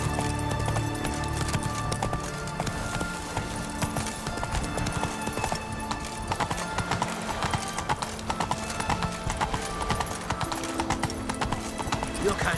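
Roach, a horse in The Witcher 3 game, gallops with steady rapid clip-clop hoofbeats close up, layered over busy game ambience and music, with an occasional whinny and bits of voice.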